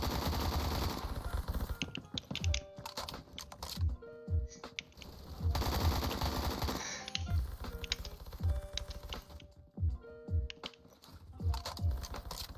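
Bursts of automatic AK rifle fire in a Roblox Phantom Forces match come in rapid repeated volleys with short pauses between them, loud and close, alongside other game effects.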